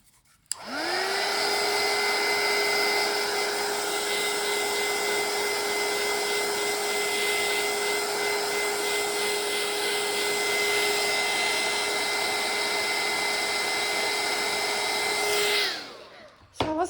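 A hair dryer runs steadily to dry paint on a mixed media journal tag, a loud, close, even whirring roar with a constant tone that switches on, holds for about fifteen seconds, then cuts off.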